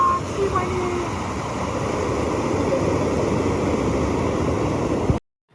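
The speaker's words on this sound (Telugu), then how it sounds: "ఇక్కడ వాటర్ సౌండ్ వస్తుంది హాయిగా" Steady rushing water near Nehru Zoological Park in Hyderabad, a continuous broadband wash running close and fairly loud for about five seconds before cutting off abruptly.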